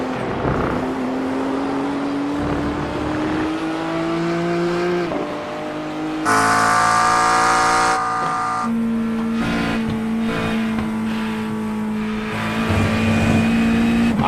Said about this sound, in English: You can hear how much those tires are working going through the corners right now on that BMW.